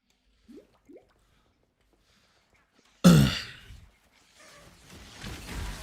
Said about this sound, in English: I noticed you clear your throat a lot.